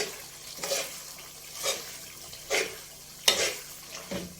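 Makhandi halwa mixture being stirred and roasted in a pan, giving a series of soft scraping strokes roughly once a second, each with a faint sizzle, close by and fairly quiet with no talking.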